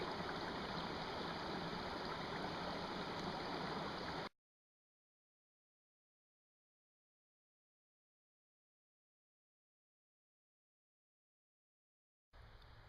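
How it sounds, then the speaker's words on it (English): A trout creek runs through Tioga State Forest in Pennsylvania in autumn, its steady broadband rush of flowing water loud and close for about four seconds, then cut to silence before the water briefly returns at the end. "I'm back out here in Tioga State Forest, just coming up to the creek here."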